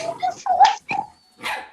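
A backyard dog gives a few short, close barks and yips in quick succession, then a final softer bark after a brief pause.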